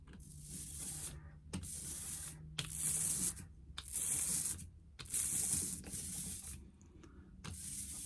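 A printmaking ink roller is rolled back and forth across inked material in repeated close, sticky hissing passes separated by brief pauses.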